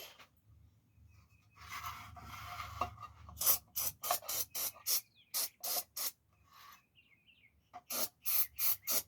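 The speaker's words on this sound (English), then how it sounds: "We're gonna use this silicone spray" Short, sharp hissing bursts of silicone spray from an aerosol can onto a 3.5 hp Briggs engine come in quick succession, a rapid series of sprays, a pause, then a few more.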